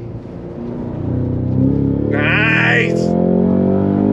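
A 2024 Cadillac CT5-V Blackwing performance sedan accelerates hard on track, its loud engine roaring steadily with rising pitch through a gear change, while a voice exclaims briefly over it.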